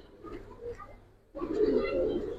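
A pair of Jabra pigeons coos softly nearby, with a faint murmur first and then a fuller, louder rolling coo in the second half.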